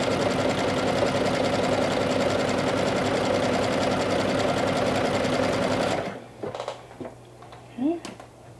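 A sewing machine runs steadily for about six seconds, stitching elastic along a garment edge with a dense, rapid mechanical hum, then stops, leaving quiet room sounds and a few soft clicks.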